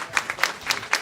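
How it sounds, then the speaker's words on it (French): A sparse, thin patter of audience applause, a few scattered claps rising and falling in quick bursts, fairly faint and brief with no voices over it. "J'aurais aimé entendre ces applaudissements un peu plus nourris."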